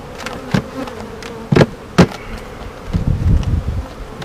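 Bees buzz around an open beehive, a steady hum carrying under several sharp knocks and thumps from hive equipment being handled nearby, with no talking.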